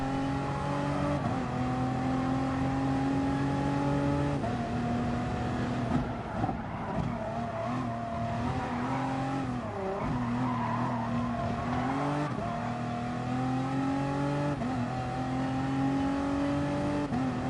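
Race car engines drone and rev steadily in Gran Turismo Sport during an online daily race, with shifting engine pitch and tire squeal through corners, loud and continuous with no talking.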